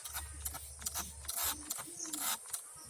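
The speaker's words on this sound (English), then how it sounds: "Now I am going to spray it on these affected parts." Quick short bursts of hissing spray from a trigger bottle applying organic pest treatment to ladies' finger (okra) plants, repeated in an uneven rhythm with mechanical clicks, close to the listener.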